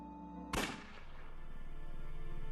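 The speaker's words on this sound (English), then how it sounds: "Was that a gunshot?" A single sharp gunshot from the video game Unavowed cracks out loudly and alone, then decays over a steady low background hum and tonal ambience.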